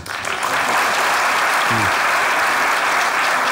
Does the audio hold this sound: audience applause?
yes